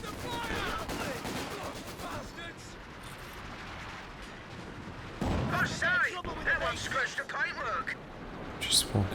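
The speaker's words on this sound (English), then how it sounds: "Just support gun doing some minor damage in the middle." Support gun shelling in Company of Heroes 2, a 1v1 match: scattered artillery booms and gunfire thudding in the battle mix while a commentator talks over it almost throughout.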